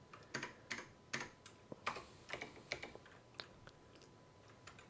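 Typing on a computer keyboard during a programming session: quiet, close-up key clicks in irregular quick bursts, with short pauses between them and no talk.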